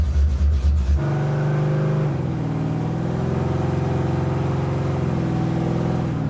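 Hellephant-engined Toyota Supra revving hard, a loud, steady engine roar with harmonic pitch shifts as it climbs through gears, close and alone after a brief burst at the start.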